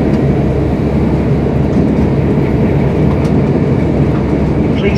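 A train rolls into Grantham station, its steady low rumble and rail noise loud and continuous throughout, with faint clicking over the tracks.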